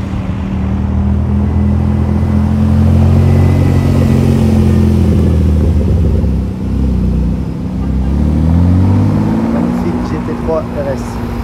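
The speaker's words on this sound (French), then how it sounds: "on a une Porsche 911 type 997 Turbo S 918 édition" A loud, deep Porsche 911 type 997 Turbo S engine idling and revving with rising and falling pitch, close by, with a steady rumble throughout.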